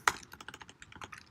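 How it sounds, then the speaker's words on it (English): Quick bursts of typing on a computer keyboard, close and clear, with irregular clicking keystrokes over about a second and no speech. "can't type"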